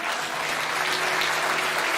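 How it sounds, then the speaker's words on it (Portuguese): A church congregation breaks into steady, dense applause at a worship service, filling the room with sustained clapping and no one speaking over it. "tenha a liberdade de celebrar conosco a Deus essa decisão, com uma salva de palmas ao Senhor"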